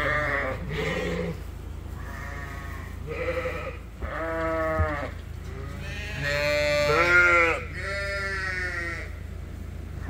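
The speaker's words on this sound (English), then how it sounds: "Hard to believe they're lambs" A flock of farm sheep and lambs bleating repeatedly, several overlapping calls at close range with some higher-pitched lamb cries among them, against steady outdoor background noise.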